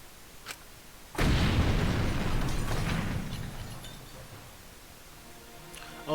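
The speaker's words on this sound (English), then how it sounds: "It's gonna explode." A single loud explosion goes off in Danganronpa V3: a sudden boom followed by a long rumbling decay lasting several seconds, with faint clinks before and after.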